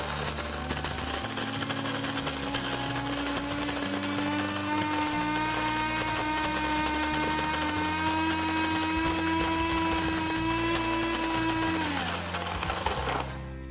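A burr coffee grinder grinds beans on its medium setting, a steady loud mechanical whir with a sustained hum that runs unbroken for about twelve seconds, then winds down abruptly at the end.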